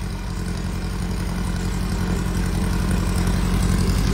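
A four-seat mid-travel sand car's engine idles a little high, a steady deep rumble running loud and close without a break.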